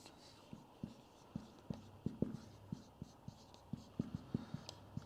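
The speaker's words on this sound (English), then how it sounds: "I'll just write these up" Pen or marker writing up notes, giving a steady series of short scratchy strokes and taps, close and fairly quiet against light background hiss.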